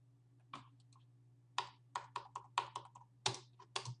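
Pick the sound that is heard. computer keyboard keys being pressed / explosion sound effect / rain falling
computer keyboard keys being pressed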